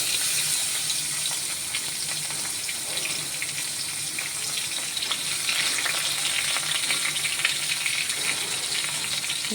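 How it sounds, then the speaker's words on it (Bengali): Chopped onion tossed into hot oil with fried chilies, curry leaves, mustard seed and whole spices, crackling in a loud, steady sizzle with bursts of stirring throughout. "লঙ্কা ভাজা ভাজা হয়ে গেছে দিয়ে দেবো পেঁয়াজ কুচি"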